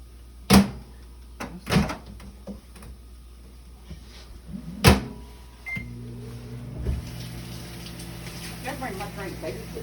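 A home kitchen microwave oven: several sharp door clunks, then a short beep, then a steady electric hum with a rattling drone that runs to the end.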